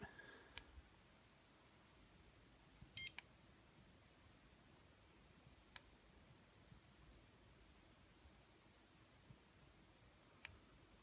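A dog training collar being switched on gives a few short, faint electronic beeps with long quiet gaps between them. One brighter chirp comes near the middle.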